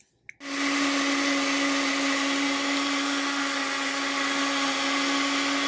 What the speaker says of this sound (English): Now turn on the stand mixer.